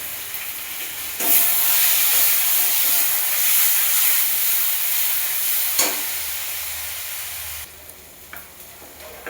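Bay leaf frying in hot oil for a spicy duck egg curry, a steady loud sizzle and hiss with a burst of crackle as the leaf hits, then a drop to a softer fizz near the end.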